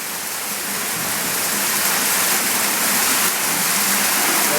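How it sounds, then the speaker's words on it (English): An underground waterfall inside Petty Johns Cave, a loud, continuous hiss and splash of falling water heard up close, building slightly and holding steady without talk. "Here's the falls"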